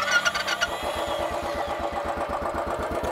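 A Royal Enfield Bullet Trials motorcycle with upswept exhaust cranks briefly, then fires and settles into a loud, steady single-cylinder thump, close by with no talking.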